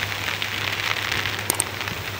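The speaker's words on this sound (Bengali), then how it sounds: "আজকে বৃষ্টির ভেতরে অনেক কাজ করতেছে" Rain falls over a farm, a steady close wash of drops spread evenly across the whole stretch, with a couple of brief sharp ticks and no voices.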